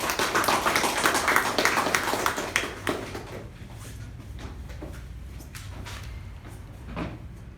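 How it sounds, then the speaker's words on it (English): A meeting audience gives a dense round of applause to welcome the first speaker, Toastmaster Raja. The clapping is loudest at the start and thins out to a few scattered claps after about three seconds. "with a huge round of applause, let us welcome the first speaker"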